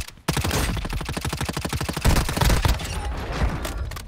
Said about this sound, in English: Oh, that's the decoy grenade